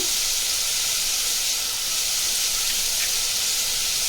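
Vegetables fry in a pan for sambar with salt added, a steady loud hiss and sizzle like steam that holds evenly without pause and with no voices.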